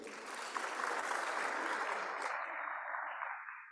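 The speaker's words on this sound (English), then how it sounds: "A round of applause for him once again." Conference audience at a technology summit applauds a speaker, a broad wash of many hands clapping that holds steady, then fades out toward the end.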